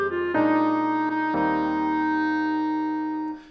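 Short jazz melodic excerpt on keys whose harmony clashes with the melody, a few struck chords with sustained notes ringing out clearly and then fading at the end.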